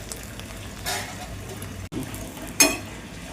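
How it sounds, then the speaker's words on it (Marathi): Flatbread roasts in oil on a tava griddle for cheese rolls, a soft steady sizzle with a few louder scraping bursts and a brief metallic clink near the end, no talk over it. "असं तव्यावर तेल टाकून घ्यायचं, चांगली पोळी 2 मिनटं भाजून घ्यायची चांगली."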